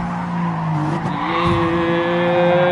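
Race car in a video game braking hard from about 174 and skidding, a sustained loud tire squeal with rising engine whine running throughout.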